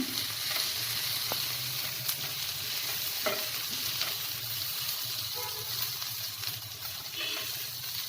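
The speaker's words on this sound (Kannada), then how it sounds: "ಇನ್ನೊಂದು 2 ನಿಮಿಷ ಇದನ್ನು ಫ್ರೈ ಮಾಡ್ಕೊತೀನಿ" Soya bean chicken turning golden brown fries in a pan, with a continuous close sizzle and occasional sharp clicks and scrapes of stirring, no voices present.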